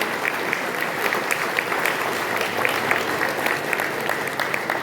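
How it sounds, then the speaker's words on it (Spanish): An audience at a public forum on judicial reform applauds steadily throughout, a dense and even wash of clapping from many hands with no break. "Démosle un gran aplauso."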